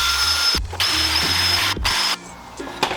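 A power tool whirs in loud bursts against the rusty brake hub of a Mini F56, running about two seconds in a couple of spins with brief stops, then cutting out into quieter handling sounds.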